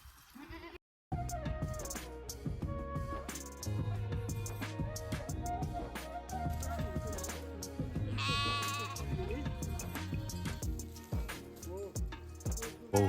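Goats bleat repeatedly in an Uttarakhand mountain forest: several wavering, nasal calls overlap at close range, with a short louder burst of bleats midway and brief human voices in the background.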